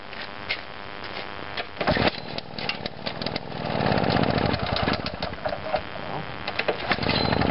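Victa Consul lawn mower engine pulled over with a recoil starter, then catching and running steadily, a loud rough mechanical drone with sputters and knocks, close by and without talk.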